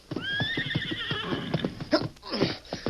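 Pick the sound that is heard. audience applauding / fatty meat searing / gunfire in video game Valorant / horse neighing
horse neighing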